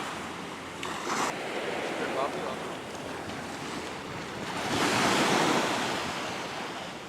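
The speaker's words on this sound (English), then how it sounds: "Just a little beach area right alongside the road." Ocean waves wash in at a small roadside beach in Piñones, San Juan, a steady broadband surf rush with a swelling crest midway, wind buffeting the microphone throughout.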